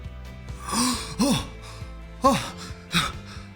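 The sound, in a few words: first breath taken, gasping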